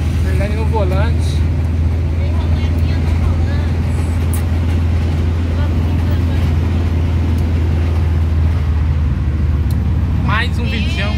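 A Volkswagen Kombi van drives steadily on a road, its low engine drone and road noise continuous and close throughout, with people talking over it.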